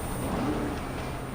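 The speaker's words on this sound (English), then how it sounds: "it makes a revving sound" Bravado Buffalo EVX electric car in GTA Online giving a low engine-like revving rise and fall, fairly quiet and steady, heard alone.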